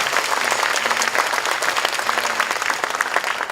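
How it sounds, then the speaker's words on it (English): Applause from an audience after a talk in a lecture series fills the moment, a sustained, fairly close and dense round of clapping with no speech over it. "can we another round of applause for Mr. Lim?"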